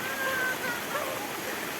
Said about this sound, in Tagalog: Lakas na tubig.